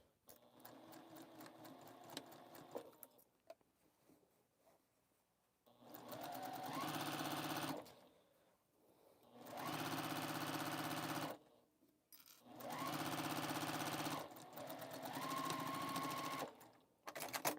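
A sewing machine stitching a sewing caddy runs in three steady whirring bursts of about two seconds each, separated by quiet pauses, close and fairly loud with no talk.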